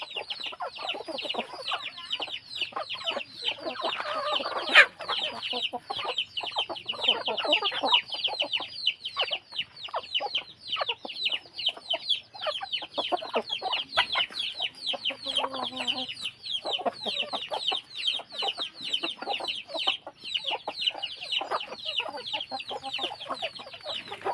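A dense flock of native country chickens on a small farm clucks and chatters continuously, many overlapping calls forming a busy, unbroken din.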